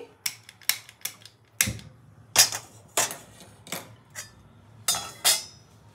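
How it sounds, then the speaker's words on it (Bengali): A metal kadai (wok) is set down on a stove, giving a series of sharp, close metallic clanks and knocks at irregular intervals. The background between the hits is quiet. "আমি এই কড়াইটা বসিয়ে দিচ্ছি।"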